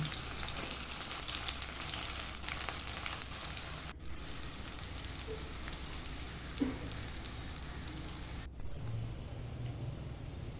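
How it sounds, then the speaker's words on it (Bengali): Sliced onions deep-frying in hot oil for biryani's crisp fried onion garnish, a steady dense sizzle that runs loud and close throughout, with two brief dips in the noise and no talking. "কড়াই তেল গরম হচ্ছে হয়ে গেছে বেরেস্তার জন্য আমি পেঁয়াজটা ভেজে নেব"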